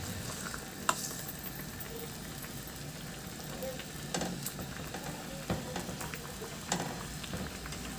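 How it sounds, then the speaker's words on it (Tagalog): Fish frying and simmering in a covered pan over low heat, a soft steady sizzle with occasional louder crackles and utensil clinks, fairly quiet and continuous. "Takpan at isimmer, pahinaan yung apoy hanggang sa maluto rin yung isda."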